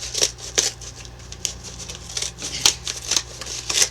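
Scissors snip through the plastic wrap of a Blu-ray and DVD combo package in a string of short, crisp cuts and rustles, close by, with no talking.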